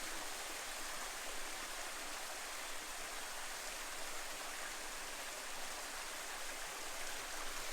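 A waterfall in Far North Queensland, Australia, pours over rocks as a steady, broadband rushing hiss, constant and unbroken, at moderate distance with no voices.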